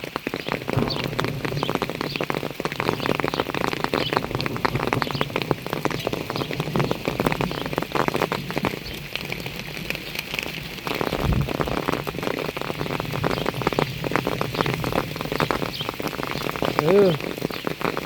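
Heavy rain pours down continuously outdoors, a dense, even hiss of drops on surfaces lasting throughout, with a faint bird chirp near the end.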